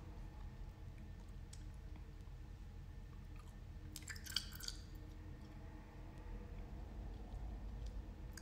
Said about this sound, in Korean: 깨물어서 그냥 아작아작 씹어 먹어요